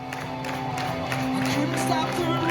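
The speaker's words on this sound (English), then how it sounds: "Keyboard players back there clapping." Rhythmic clapping from keyboard players at a live concert in Berlin, sounding under music and crowd noise with voices talking over it.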